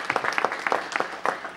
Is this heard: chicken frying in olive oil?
no